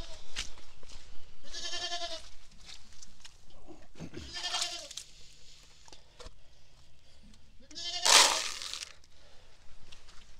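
Goats on a muddy farm bleat repeatedly near the listener, several separate calls over ten seconds, one loud and harsh near the end, with quiet background movement.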